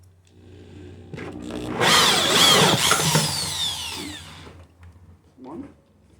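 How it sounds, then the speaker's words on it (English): A power drill bores into the lid of a plastic container for a deep water hydroponic garden, whining up for a few seconds of loud drilling with a gritty bite, then winding down into quiet. "we're going to drill right in those little crosshairs"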